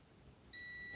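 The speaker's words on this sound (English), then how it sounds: "There, you hear the beep?" A multimeter's continuity beep sounds as probes touch pins on a reworked circuit board, a sudden, steady high-pitched electronic tone starting midway and holding to the end, loud and close, with no talk.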